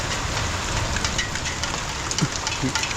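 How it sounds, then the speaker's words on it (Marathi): Heavy downpour in the Konkan with big, fat drops pounding down, a dense steady roar close by with scattered louder splats. "सरीवरचा पाऊस आहे, जोरदार आहे. जाडे थेंबडे आहेत."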